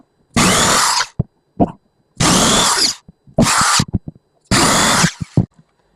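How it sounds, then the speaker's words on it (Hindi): A power drill bores holes for installing a drawer lock, four loud whirring bursts of about a second each, separated by brief silences and small knocks and clicks. "हम जब भी होल करेंगे तो ड्रिल को इस तरीके से हिलाना है।"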